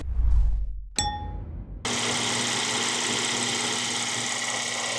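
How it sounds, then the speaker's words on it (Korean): A metallic clang and ringing ding, then the gasoline engine of a 2022 fourth-generation Kia Carnival starts and runs with a steady, even hum. "확실히 가솔린 차량이다 엔진 소리가 좋네요"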